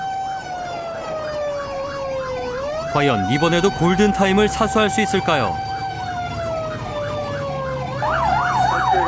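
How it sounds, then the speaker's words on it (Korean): A fire engine's wailing siren rises and falls continuously, loud and close, on an emergency run in Busan, with a narrator speaking over it and a brief musical burst in the middle. "경적의 사이렌을 울리는 소방차를 보고도"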